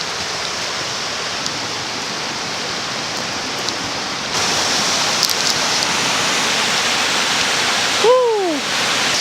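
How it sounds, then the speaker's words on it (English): Rushing water of Nannup waterfall in the forest, a steady broadband roar that swells louder midway, with a brief chirp near the end. "That's about as much water as I've seen on that waterfall"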